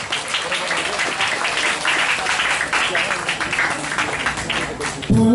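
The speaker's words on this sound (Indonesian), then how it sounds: "Tepuk tangan untuk Vijay" Audience at a religious gathering applauding a speaker, a sustained wash of clapping at moderate level that continues evenly before ending abruptly.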